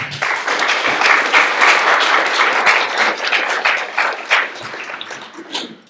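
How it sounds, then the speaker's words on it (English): A crowd at a county commissioner candidate forum applauds loudly and continuously, the clapping thinning toward the end with a few scattered final claps. "Let's give them another round of applause."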